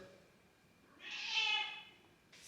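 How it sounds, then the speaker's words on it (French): A single drawn-out cat meow rises and falls over about a second, fairly close but quiet in a calm indoor room, with faint background noise and no talk. "Elle peut miauler comme ça pendant des heures et des heures et des heures."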